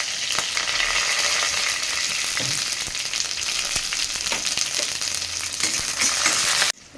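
Green chili, curry leaves and sesame seeds frying in hot ghee with mustard and cumin seeds, a loud continuous sizzle with faint stirring clinks, alone without voices.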